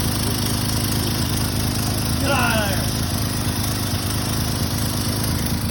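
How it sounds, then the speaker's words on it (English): A car engine with a damaged, plugged exhaust idles in a steady, rough low rumble, close by and continuous, while someone speaks briefly over it. "Well, it's still running. Idling's pretty decent right now, actually."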